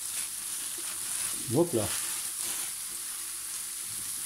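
Ground beef fries in a pan with a steady, soft sizzle throughout, while a voice speaks briefly over it.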